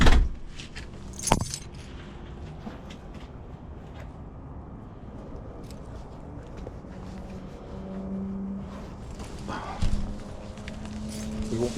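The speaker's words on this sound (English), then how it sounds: "We won't be taking these keys." Keys jingle close by in a few brief bursts over a steady background, and footsteps and faint movement come between the jangles.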